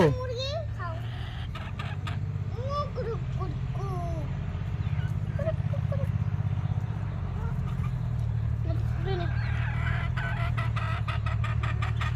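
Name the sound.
chickens clucking while being fed flour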